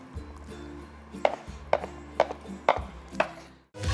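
Knife chopping hard cheese into small pieces on a board for an Afghan-style pizza, a steady run of five or six sharp, evenly spaced chops close by, with a low hum of the kitchen underneath.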